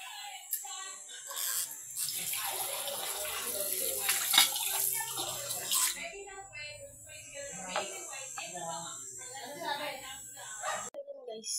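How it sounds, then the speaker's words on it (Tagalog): Tap water runs hard into a sink while a glass is washed, a loud close gush for several seconds that then drops away as a person talks over quieter water sounds. "Kuha ko baso, maghugas ako."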